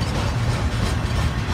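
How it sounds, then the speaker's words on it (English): A Norfolk Southern freight train led by a Dash 9 locomotive rumbles loudly and steadily nearby, a dense broadband roar with no voices. "Norfolk Southern train to slow."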